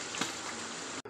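Frying for an egg curry gives a steady close sizzle and crackle in the pan, continuous for about a second before a brief break and a sharper burst.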